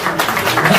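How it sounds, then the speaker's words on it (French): Audience applause at a national grand theatre event, a brief burst of dense clapping with no voices over it. "Merci beaucoup sur vos applaudissements."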